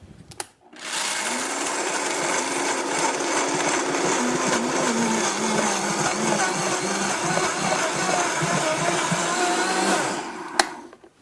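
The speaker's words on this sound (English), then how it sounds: "this is the almonds in the Vitamix, and you're going to see how fast this is" Almonds ground to flour in a Vitamix blender: a loud, steady high-pitched whir that runs about ten seconds alone, then cuts off.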